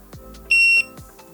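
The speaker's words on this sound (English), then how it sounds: "And that beep indicates that it's now paired." A single short high-pitched electronic beep from a wireless tattoo machine pairing with its foot pedal, lasting under half a second, with faint clicks and low rumble around it.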